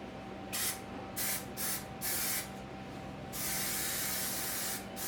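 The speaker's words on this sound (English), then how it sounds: "spray adhesive, nice and strong. Smells strong." Several short bursts of 77 spray adhesive hissing from an aerosol can, then one longer continuous spray, close and loud over a faint steady hum.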